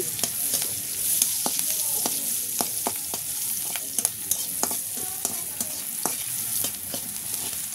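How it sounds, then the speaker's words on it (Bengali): Chopped onion, garlic and dried chillies fry in hot oil for a mustard greens dish, producing a constant bright sizzle punctuated by frequent quick spatula scrapes and taps on the pan, close and without speech. "সুন্দর করে আমি এখানে পেঁয়াজ কুচি রসুন কুচি দিয়ে দিচ্ছি, সাথে আমি শুকনো মরিচ ভাব ভেজে নিচ্ছি"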